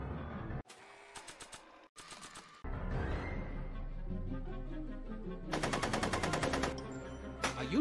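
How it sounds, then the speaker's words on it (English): Rapid gunshots in Back to the Future: The Game, delivered as quick rattling bursts of fire separated by short gaps and a louder rattling burst late on, set against music and other game sounds. "Are you shooting at me?"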